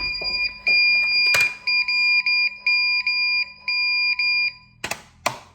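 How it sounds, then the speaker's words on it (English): An electronic alarm beeps in a steady repeating pattern of loud tones, then cuts off, followed by a couple of clunks. "Let's just get this alarm off."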